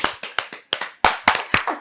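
A short burst of hand clapping, about a dozen quick, slightly uneven claps over two seconds, close and crisp, with no voices over it.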